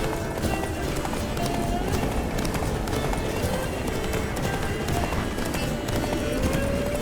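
Geralt's horse gallops in The Witcher 3, hooves clip-clopping in a fast, steady rhythm close by over a constant background bed, with faint game sounds throughout.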